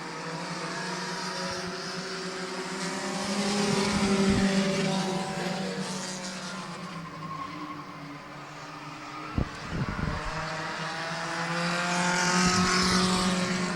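Race cars at Midvale Speedway, a stock car oval, roar around the track in a pack, engine pitches rising and falling as they pass, with one sharp bang midway and steady crowd-distance ambience.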